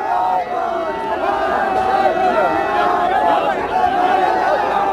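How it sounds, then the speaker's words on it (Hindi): A crowd of supporters celebrating Pusaram Godara's election win in Ratangarh, steady loud cheering and shouting from many voices that merge into a continuous festive roar, with talk over it. "पुसाराम गोदारा के समर्थकों की भीड़ यहां जुट चुकी है"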